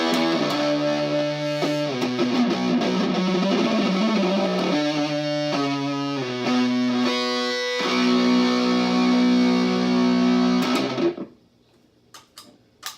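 An electric guitar plays sustained, buzzing distorted chords through a Boss Tera Echo pedal with the effect mostly turned down, changing chords every second or two for about eleven seconds before the sound cuts off, leaving a few faint clicks.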